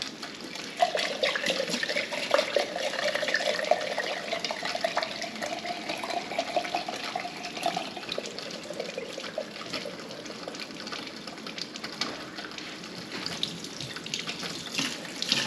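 Tap water runs steadily into a sink as alfalfa and broccoli sprouts are rinsed, a continuous close splashing wash that holds for the whole stretch with no voices.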